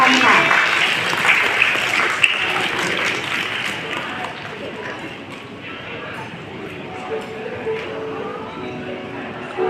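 Guests at a wedding reception applaud to welcome a speaker, clapping loudly at first and then gradually thinning out and fading over several seconds, with soft voices and room chatter underneath.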